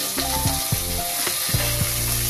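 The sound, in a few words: vegetables and cabbage stir-frying in oil for veg pulao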